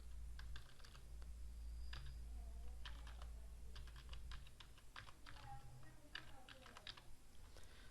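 Quick bursts of light key taps on a computer keyboard click in irregular clusters, close and quiet over a low background hum.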